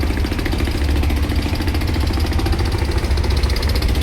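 A boat or river launch travels on the Meghna river, its engine throbbing steadily and loudly close by as a constant low mechanical drone with a rapid pulsing rhythm, and no voices.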